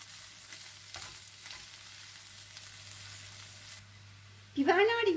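Chopped garlic and finely diced green peppers fry in a pan with a soft, steady sizzle. Near the end a clatter of stirring or a utensil cuts in.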